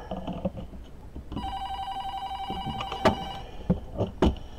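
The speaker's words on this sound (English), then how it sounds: "There goes my damn phone again" A phone rings partway through with a steady electronic ringing tone at moderate loudness, over background knocks and handling clatter, plus a few sharp louder clunks near the end.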